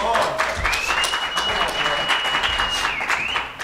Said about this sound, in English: that was like the weakest applause of all the things we've said